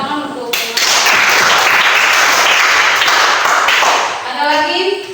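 A classroom of students claps in a loud, dense burst of applause lasting several seconds before tapering off, with some voices mixed in near the end.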